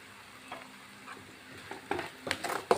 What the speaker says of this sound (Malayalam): ഇതെല്ലാം കൂടെ നമുക്ക് നല്ലപോലെ ഒന്ന് മൂപ്പിച്ചെടുക്കാം.